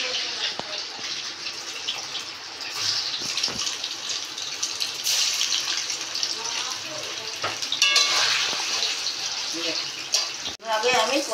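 Paneer cubes frying in a pan of hot oil for kasoori methi paneer, a steady close sizzle with occasional stirring and clinks throughout.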